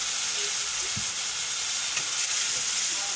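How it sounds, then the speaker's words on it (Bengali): Spice paste hits hot oil with its tempering spices for a Bengali katla fish curry, a loud, continuous broadband sizzle and hiss with a few faint clinks, no talking. "সব মশলাটা আমি এখন এই ফোড়নের মধ্যে দিয়ে দিব"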